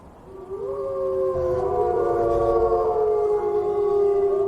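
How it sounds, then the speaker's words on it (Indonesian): Several wolves in a pack howl together, long overlapping rising and sliding tones layered one over another, loud and sustained throughout with no talking. "Itu kawanan serigala."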